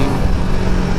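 A Royal Enfield Himalayan 450 motorcycle accelerates along a highway, its engine droning loud and steady throughout with heavy wind rush and no break.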